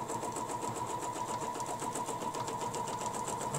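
A sewing machine stitches an open-edge appliqué guided by a ruler, its motor running at a constant fast, even hum with a steady needle chatter, close and alone.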